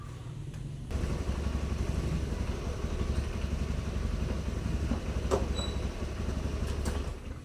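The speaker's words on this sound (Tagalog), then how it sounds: "First time natin natatry itong motor na to sa highway." A steady engine drone with low rumbling road noise, close and continuous, with wind buffeting throughout as if riding on an open road.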